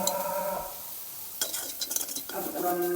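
Coriander leaves dry-roasted in a wok without oil, with bursts of scraping and stirring from a utensil against the metal pan, separated by a quieter stretch of low background hum.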